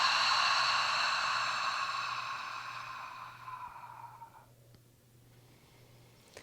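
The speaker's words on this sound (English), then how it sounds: "exhale out through the mouth" A long, audible breath is exhaled out through the mouth during a beginner yoga class, a soft breathy rush that starts strong and slowly fades over several seconds until nearly silent.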